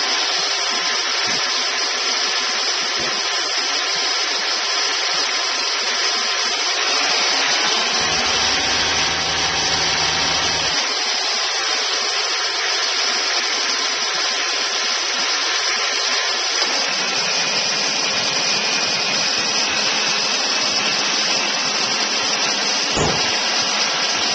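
A 2004 Honda Accord EX engine holds a steady 2,000 RPM after an alternator replacement, a constant close mechanical drone with a whining tone and a brief lower shift partway through.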